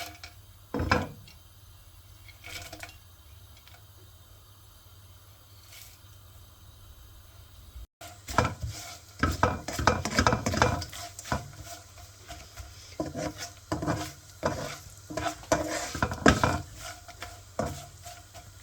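Besan frying on a low flame while being stirred in a pan, with a quiet opening of a few isolated scrapes, then a dense run of spoon scraping and clatter against the pan, close and without talk.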